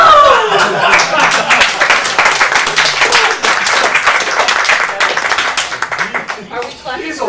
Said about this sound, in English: Are we clapping Feasel, for what did you do?